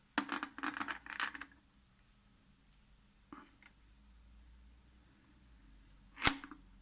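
A small cupronickel one-penny coin moves across a surface toward a magnet and ends with a sharp metallic click, faint and close, with a few light rustles before it.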